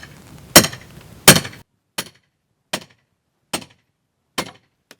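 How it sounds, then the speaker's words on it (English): Hammer blows on a classic four-way wooden pallet being dismantled: two loud, ringing strikes followed by four sharper, shorter knocks at a steady rhythm, close by with quiet gaps between. "in the end the hammer sound is quite exhausting"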